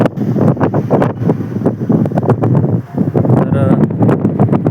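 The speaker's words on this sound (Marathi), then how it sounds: "समोर अथांग पसरलेला हा अरबी समुद्र." Wind and Arabian Sea surf on the rocky coast at Harihareshwar, Raigad, a continuous loud, gusty roar of breaking waves buffeting the microphone close by, with a voice talking through it.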